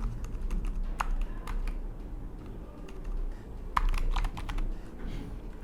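Typing a username on a computer keyboard, a steady run of close, light key taps in quick uneven bursts over low background hum, with no talking.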